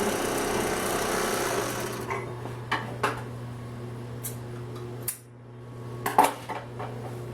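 A Singer 261-1 sewing machine runs under foot-pedal control with a steady, close motor hum and scattered light clicks. The hum cuts out near the end, leaving a few sharp taps.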